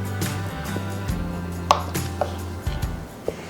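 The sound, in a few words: knife slicing cold butter for biscuits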